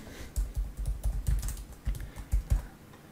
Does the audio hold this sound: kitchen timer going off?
no